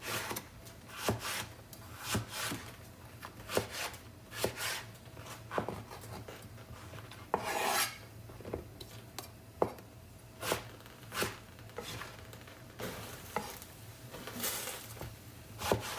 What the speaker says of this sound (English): I enjoy cutting vegetables, such a pleasant feeling.